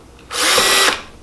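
A power drill fitted with a Vix bit bores a pilot hole for hinge screws on a Blum Compact 38N soft-close hinge retrofit, one loud, close, high whine lasting about half a second.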